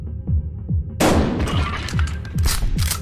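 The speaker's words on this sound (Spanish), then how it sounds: "Le disparo a él." Shotgun blast in the video game Buckshot Roulette, a sudden loud boom with a crackling burst, set among recurring low thuds and game sounds.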